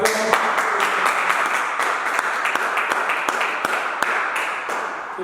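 A congregation at a French-language church service applauds loudly and continuously for several seconds. The clapping is dense and energetic, with sharp individual claps standing out.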